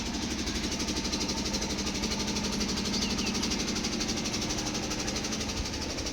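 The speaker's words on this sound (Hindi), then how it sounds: "और इंजन लगाया है, क्योंकि बार बार लाइटें जाने से बच्चे बहुत ज़्यादा परेशान हो रहे हैं।" A generator engine runs steadily during a household power cut, a close, continuous mid-pitched chugging drone with a fine knocking rhythm throughout, and no voices.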